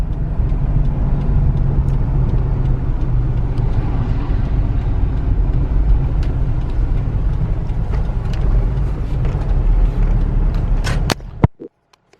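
A ten-year-old Ford Endeavour SUV accelerates with a loud, sustained, rumbling engine roar that holds steady for about eleven seconds, then cuts off abruptly.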